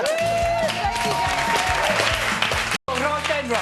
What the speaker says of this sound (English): That round of applause is not only for you